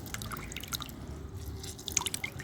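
Lemon squeezed into warm water for a foot soak, a few quiet drips and small splashes falling into the water, faint and close.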